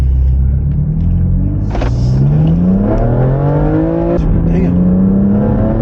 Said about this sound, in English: Got the windows open so you can hear the engine and everything.